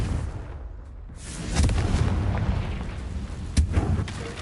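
A Confringo spell blast from Hogwarts Legacy lands as a sharp, booming burst over steady low ambient rumble, followed by a second brief crack near the end.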